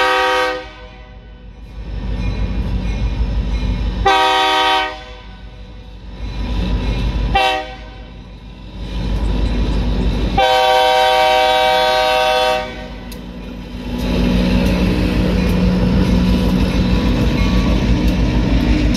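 A heavily loaded freight train with locomotive 502 passes on wet track, its horn sounding in several long blasts over a steady rumble and rolling clatter, with odd noises from the front axles.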